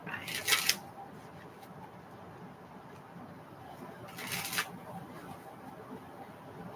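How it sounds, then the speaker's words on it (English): Tarot cards are shuffled in two quick riffling bursts, separated by a few seconds of quiet room tone. "This is the last shuffle."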